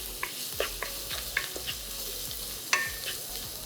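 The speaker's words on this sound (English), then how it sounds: "Once the raw flavor is gone, adding the chopped onion." Chopped onion with a pinch of salt hits hot oil and sizzles steadily for poha upma, while a spoon scrapes and stirs the pan in several distinct strokes, close and fairly loud.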